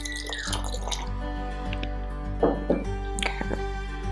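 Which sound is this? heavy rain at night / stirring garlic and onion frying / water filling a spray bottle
water filling a spray bottle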